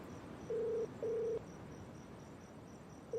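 A telephone call is placed at night: two long electronic ringing tones sound in quick succession and a third begins, over faint hiss and soft, steady high chirping like crickets.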